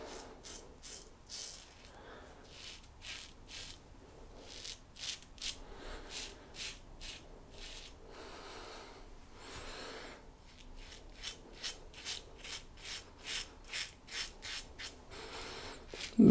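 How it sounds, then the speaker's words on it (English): A full stainless steel safety razor shaves against the grain, making a steady series of short, close, rasping scrapes in a regular rhythm, with brief pauses between bursts of strokes. "Against the growth now. Using the Hyperion full stainless steel razor."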